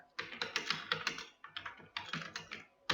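Rapid clicking keystrokes on a computer keyboard, close and crisp, in two quick bursts separated by a brief pause, with no talking.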